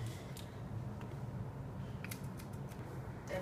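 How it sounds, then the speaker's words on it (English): Scissors snip through hair at an amateur home salon in Japan, giving a few faint, sparse clicks over a steady background hum. "She's not like a professional with these scissors."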